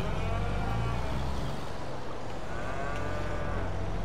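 Cows lowing in Farming Simulator 22 on a dairy farm, several long moos overlapping against a steady droning background, with a vehicle engine humming underneath throughout.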